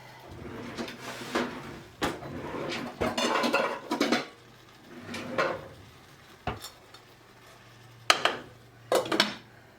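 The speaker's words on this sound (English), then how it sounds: "I'm going to pop a lid on that" A lid goes onto a pot of simmering tomato sauce in a farmhouse kitchen, giving several separate clanks and metallic clatters with quiet pauses between them, close by and fairly soft.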